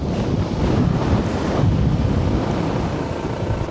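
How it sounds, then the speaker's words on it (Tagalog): Strong wind roars and buffets against the microphone without a break, a dense, loud rush that fills the whole stretch on a cold mountain ride in Ilocos Norte. "grabing hangin, no?"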